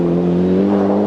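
A Mitsubishi Lancer Evo rally car on a stage of the 2001 Tour de Luxembourg Rally holds a loud, steady, close engine drone that hums evenly throughout the brief moment.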